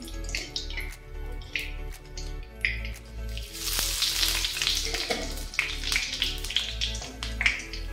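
Cumin seeds dropped into hot oil left from frying paneer in a kadai crackle and sizzle loudly, with tapping spoon clicks and a burst of spitting midway, no voices.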